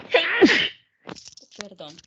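One sharp human sneeze bursts out close and loud during an online class session, followed by a pause and then someone speaking briefly.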